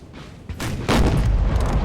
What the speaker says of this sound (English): Artillery here, some 6-pounders just gonna fire down this street